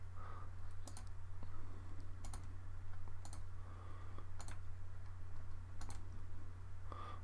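Computer mouse clicks at a workstation during photo retouching: about six sharp, isolated clicks spaced roughly a second apart, close and crisp, over a steady low electrical hum with no talking.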